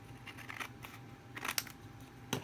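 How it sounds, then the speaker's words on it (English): Scissors snip through the edge of a paper box in quick, quiet cuts. A few crisp clusters of crunching snips come close up against a near-silent background. "we can take this and cut the other edge off"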